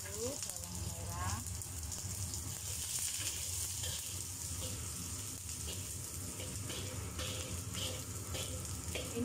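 Shallots sizzle steadily in hot oil in a pan while mie goreng is cooked, a loud continuous crackle and hiss throughout, with a brief voice near the start.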